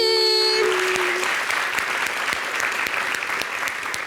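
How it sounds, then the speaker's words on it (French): A live audience at a summer holiday television event applauds. A brief tone fades at the start, then dense, even clapping continues throughout at moderate volume. "On s'applaudit."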